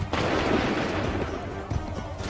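A volley from soldiers firing on command in Assassin's Creed 3, a broad booming musket discharge that rolls out and fades, with a smaller crack near the end and muffled battlefield noise throughout.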